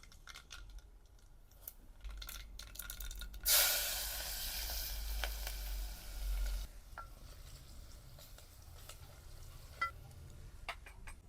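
Mustard seeds, chilies, cumin and asafoetida hit hot oil for a Gujarati tempering, giving a sharp burst of crackling sizzle that lasts about three seconds, framed by quieter stirring and light clinks of a utensil.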